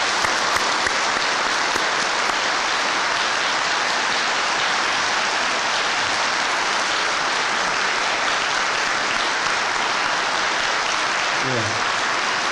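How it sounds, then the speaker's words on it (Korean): A church congregation at a pastor's installation service applauds in praise, a loud, dense, unbroken roar of clapping that fills the room for several seconds. "우리 하나님께 영광의 박수를 드리겠습니다."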